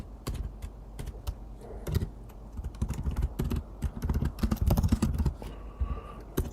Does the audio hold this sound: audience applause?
no